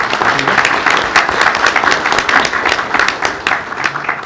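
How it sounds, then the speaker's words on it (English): An audience at a school board meeting claps steadily as students are called forward, a dense, even wash of applause from a crowd of moderate size, fairly close and sustained throughout. "you can applaud as each one is named and as they're coming forward"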